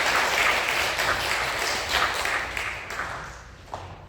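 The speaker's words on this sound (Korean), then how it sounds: "다시 한번 박수할까요?" A church congregation claps after the choir's hymn during a Korean worship service, a moderately loud wash of applause that thins out and fades toward the end, with a few isolated claps trailing.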